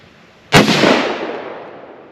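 A single rifle shot fired through a UUQ 3-9X32AO scope, one loud sharp crack after a quiet moment, followed by a long fading echo that rolls away over about a second and a half.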